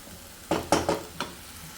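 Coconut and masala frying in a pan for chicken curry, heard as four quick stirring scrapes with short sizzling bursts between half a second and one and a quarter seconds, close and fairly loud over a quiet background.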